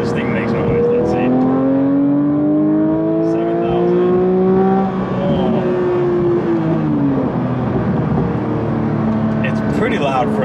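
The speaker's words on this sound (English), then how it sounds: "It's pretty loud for a stock Porsche" A stock 992-generation Porsche 911 GT3 with PDK revs hard toward 7,000 rpm, its loud, close engine note climbing and then falling back as the revs drop, with strong harmonics throughout.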